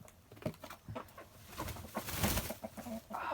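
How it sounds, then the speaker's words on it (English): A rooster on a farm makes soft, close clucking sounds in short, irregular bursts during winter chores, with no other voices. "Isn't he the prettiest rooster?"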